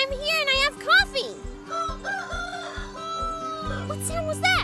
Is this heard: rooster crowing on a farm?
yes